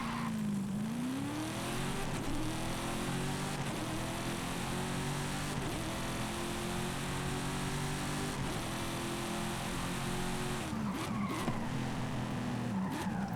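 Race car driven in the video game Forza during a 1990s-themed racing championship; a loud, close engine revs and climbs through repeated gear shifts, with brief tire squeal and skidding near the end.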